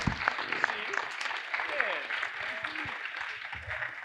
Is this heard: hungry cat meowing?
no